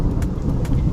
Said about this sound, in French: Nous assistons gros orage, du tonnerre.